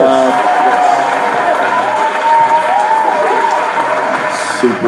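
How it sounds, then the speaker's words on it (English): A club crowd claps and cheers for a DJ named Harold at a Sunday rhythm-and-ribs night, a loud steady wash of applause with a few whoops, holding at an even level throughout. "round of applause for Harold"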